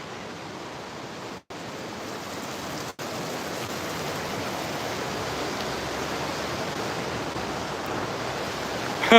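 Floodwater rushing through Traunstein during high water, heard as a loud, continuous broadband roar that holds steady throughout with two brief dropouts early on and no voices.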